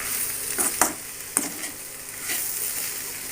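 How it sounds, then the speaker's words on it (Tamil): Ivy gourd (kovakkai) poriyal being stirred and fried in a pan, a steady soft sizzle with a few sharp scrapes and clicks of the spatula against the pan, close and alone. "இந்த மாதிரி வந்து நல்லா கிளறி எடுத்துடலாம்"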